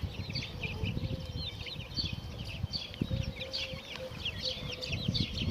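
Chickens cluck and chatter softly in a steady, busy flock, with occasional low thumps and outdoor background noise underneath.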